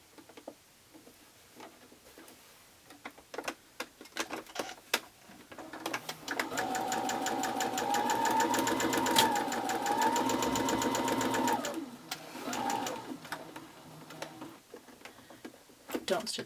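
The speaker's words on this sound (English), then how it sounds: "to the sewing machine we go." A sewing machine whirs in a fast, steady stitching run for several seconds, preceded and followed by quiet clicks and handling sounds.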